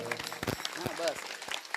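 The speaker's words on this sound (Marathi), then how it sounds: "यांच्यासाठी एकदा टाळ्या वाजवा" Scattered clapping from a crowd at a kirtan, mixed with voices talking over it, a brief, somewhat muffled burst of applause.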